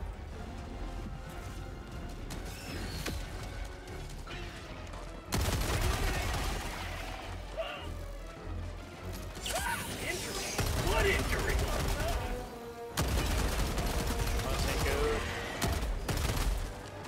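Rapid gunfire with explosive ammunition in Helldivers 2, loud and sustained, with blasts and crashes layered through a busy battle mix and some voices underneath.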